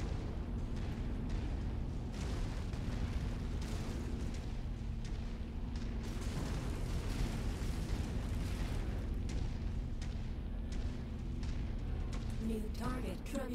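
Artillery shells explode in the video game MechWarrior 5, a continuous barrage of deep booms and rumbling blasts over a steady mechanical drone, dense and sustained.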